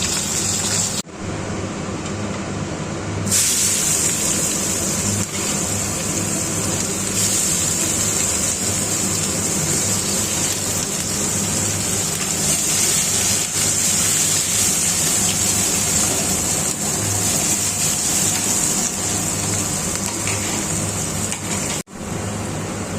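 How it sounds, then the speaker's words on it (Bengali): Onions and spices frying in a pan while making a koi fish curry, giving a loud, dense, continuous sizzle that holds steady throughout, close by, with no talking. "এবং মশলাটা ভালো করে ভাজতে হবে।"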